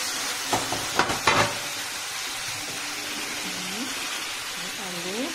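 Fish and potatoes fry together in a pan with a steady sizzling hiss, while a few sharp utensil clanks come early on and a faint voice is heard in the background.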